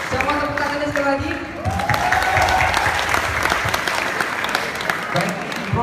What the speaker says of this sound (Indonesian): Siapa tepuk tangannya sekali lagi?